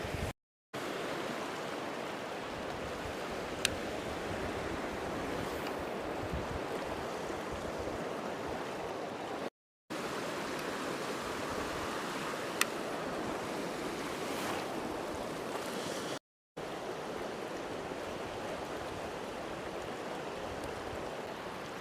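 An Oregon river flows during winter steelhead fishing, making a broad, steady rushing wash that stays loud and continuous, with a few short dropouts and no talking.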